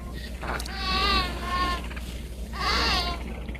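A goat being attacked by a Komodo dragon bleats twice, wavering cries close by, with a low steady rumble underneath.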